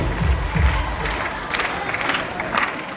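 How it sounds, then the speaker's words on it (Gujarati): An audience at a school STEM techno science fair applauds to welcome a guest, with brisk, dense clapping that stays close and fairly loud for a few seconds. "આપણે બધા ખૂબ જોરદાર તાળીઓથી એમનું સ્વાગત અભિવાદન આપણા સૌ વતી"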